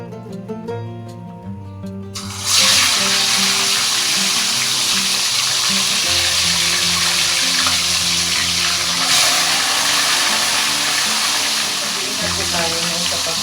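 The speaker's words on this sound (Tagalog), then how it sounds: "Make sure na talagang mainit ang mantika para hindi didikit yung isda sa kawali. Okay, so prito na natin guys." Tilapia frying in hot oil in a pan, a loud, steady sizzle that bursts in after a quieter opening and runs on without a break, with background music playing under it.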